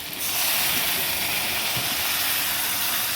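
Water poured into a hot pan of stuffed eggplant hisses with a broad, steady steam roar that rises quickly and holds loud and close throughout.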